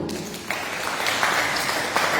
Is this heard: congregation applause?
yes